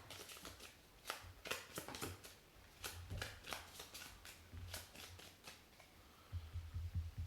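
A deck of playing cards being shuffled during a tabletop card game, giving repeated crisp riffling bursts and flutters at close range with quieter handling sounds between them.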